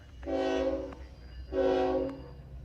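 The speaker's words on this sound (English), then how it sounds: "K-line train coming" K-Line locomotives pass and sound two long, loud, steady horn blasts with a brief pause between them, heard alone over a low rumble.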